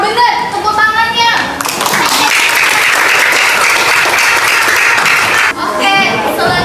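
A classroom of people breaks into loud, sustained applause lasting several seconds, with a speaking voice before and after it.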